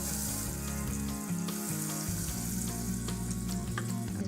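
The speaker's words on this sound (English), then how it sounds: "in a medium saucepan, put 3 tablespoons of butter" Butter melting in a medium saucepan gives a steady, close frying sizzle that runs unbroken throughout, with a faint stirring texture and no voices.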